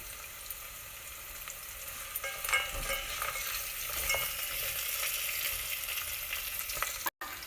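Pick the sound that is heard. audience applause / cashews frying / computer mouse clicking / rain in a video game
cashews frying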